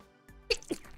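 A single sharp, close sneeze from a person with cat allergies, brief and fairly quiet, heard alone in a quiet room.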